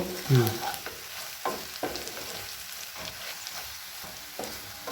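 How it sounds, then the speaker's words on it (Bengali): A tablespoon of poppy seeds stirred into frying onions in a pan, with steady scraping stirs and a soft sizzle, a louder clatter at the start, then repeated spatula strokes throughout. "এক টেবিল স্পুন পোস্ত পোস্তটা দিয়ে ভালো করে নেড়ে চেড়ে নেব"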